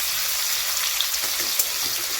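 Prawns coated in rice flour frying in oil in a pan, a dense, even crackling sizzle that holds steady throughout at close range, with a couple of faint pops and no talking.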